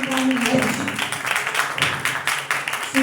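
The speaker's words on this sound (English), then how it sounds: "Let's clap for Jesus." A church congregation claps during a Sunday sermon, with a quick run of uneven, bursty claps mixed with voices and a sustained tone underneath.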